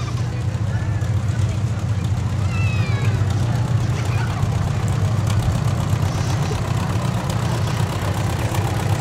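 A vintage Ford Select-O-Speed tractor engine idles steadily at a parade with a deep, constant rumble that fills the whole stretch, and faint voices come and go in the background.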